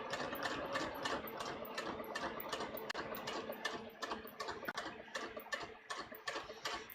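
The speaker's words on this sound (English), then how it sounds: "So let's sew through all the layers." A sewing machine running slowly and steadily through several layers of muslin at a collar, its needle ticking in an even mechanical rhythm throughout, close and unaccompanied by talk.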